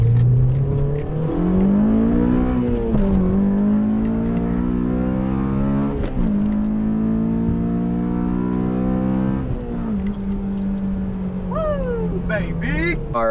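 A Honda VTEC track car accelerates hard in first gear: the engine note climbs to a loud, close, rising scream, holds steady and high, then dips and surges again, with a voice briefly audible over it.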